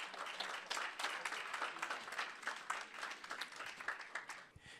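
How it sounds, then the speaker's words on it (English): Faint, steady applause from an audience at a summit panel session, many hands clapping at a distance and thinning out toward the end. "Gentlemen, give them a round of applause."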